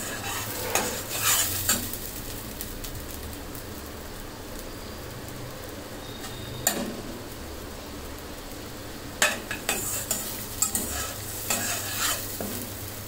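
Onion and garlic masala sautéed for Punjabi-style chicken, a continuous close sizzle with repeated bursts of a spatula stirring and scraping the pan, no voices.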